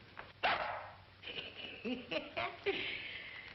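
A dog in an old comedy short barks several times in short yips, mixed with voices on a muffled, narrow-band soundtrack.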